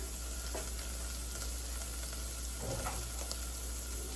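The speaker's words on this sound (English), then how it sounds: "Let's put a little more butter. There we go. We're gonna let that saute for a little bit." Butter sizzling in a pan as ingredients sauté for a Portuguese soup, a steady close frying hiss with a few soft stirring bumps, fairly quiet and free of talk.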